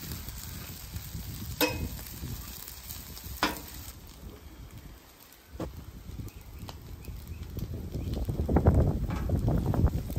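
Bubble and squeak frying in plenty of butter on a griddle, a steady soft sizzle with a few sharp clatters of a utensil, the frying growing louder and denser toward the end.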